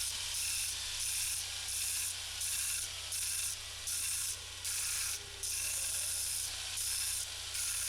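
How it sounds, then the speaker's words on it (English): Stationary belt sander with 40 grit green zirconia belt grinding down a guitar, a loud continuous abrasive hiss with a regular pulsing rhythm from the belt and faint mechanical ratcheting underneath. "do it the more exhilarating way on this stationary belt sander with 40 grit green zirconia"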